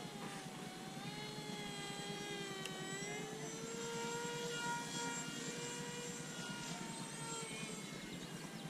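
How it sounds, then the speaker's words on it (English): A small buzzing model airplane engine drones steadily overhead, its pitch sliding up and down as it passes, faint and distant with no talking. "here comes the lead airplane"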